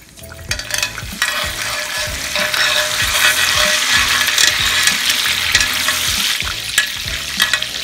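Minced garlic sizzles loudly in basting butter and olive oil in a pan for lamb chops, a steady close crackling fry with rhythmic low scraping as it is stirred.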